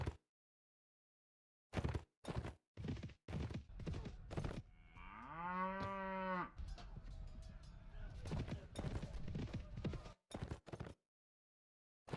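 Cattle in the Mount & Blade Floris video game let out one drawn-out moo, surrounded by sharp, intermittent clip-clopping hoofbeats.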